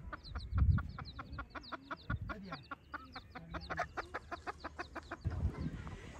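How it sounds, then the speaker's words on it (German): Chickens and chicks at a farm cluck in quick rhythmic bursts, close and fairly soft, with a few lower grunting sounds at the start and end. "Ach, die haben Hühner und Küken."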